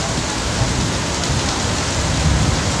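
A loud, steady downpour of heavy rain in Malaysia drums on surfaces nearby, a dense wash of drops with a deep rumbling undertone and no pauses.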